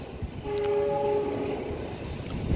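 A train on a railway line near a mountain and rail bridges sounds a steady horn blast lasting about a second, over a continuous low rumble of the passing cars, heard from a short distance.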